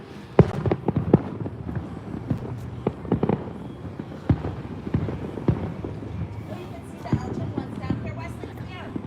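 Distant fireworks pop and crackle in irregular bursts on the Fourth of July, sharp reports scattered through the clip over a muffled outdoor background, with people talking at times.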